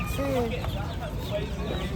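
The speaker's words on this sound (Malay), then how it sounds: "Kali ni kita akan tengok anak ayam dan anak angsa." High, thin peeping of young chicks and goslings, many overlapping chirps close by amid a busy morning market in Kuala Kangsar, with occasional voices.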